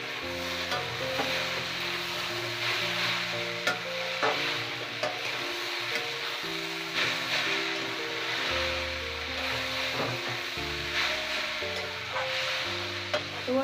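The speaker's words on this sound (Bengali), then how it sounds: "এবার শুধু নাড়াচাড়া করবো কিছুক্ষণ" A spice paste with ground green chilli is stirred and fried in a pan, for a fish curry with posto. A spatula scrapes steadily through a continuous close sizzle, with no voices.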